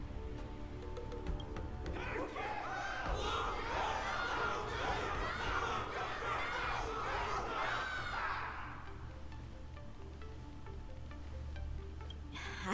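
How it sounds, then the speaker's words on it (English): A crowd in Honkai Star Rail cheers and shouts for several seconds, a dense swell of many voices over a low music bed, then fades back to the background. "Can't you hear? Everyone's cheering for you, Luca."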